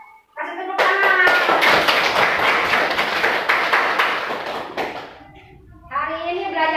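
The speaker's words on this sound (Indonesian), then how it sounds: "kasih tepuk tangan" Children in a classroom clap together for about four seconds, a dense burst of hand claps with kids' voices mixed in, bracketed by someone speaking before and after.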